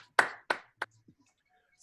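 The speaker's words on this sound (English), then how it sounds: "Clap it up for yourselves." A few sharp, separate hand claps from a workout group at the end of a tough morning session: three distinct claps in quick succession, then a softer fourth, with quiet gaps between them.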